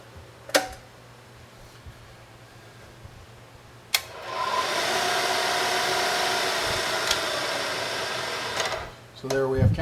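Pearson milling machine switched on to run counterclockwise, a sharp click followed by a steady, fairly loud motor whir with a faint whine that holds for several seconds, then winds down near the end.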